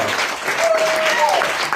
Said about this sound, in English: Rabbi Stillerman, please accept this round of applause